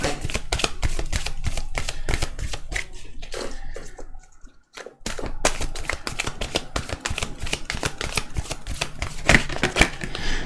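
Tarot cards handled and shuffled to draw three cards, with rapid papery flicks and slaps in a dense, close rhythm that pauses briefly midway before resuming.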